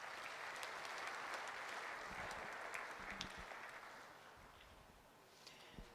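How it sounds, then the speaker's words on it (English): A church congregation at a Sunday service claps together. The applause is faint and distant but steady, with a broad patter that thins slightly toward the end. "Please give God a clap of it."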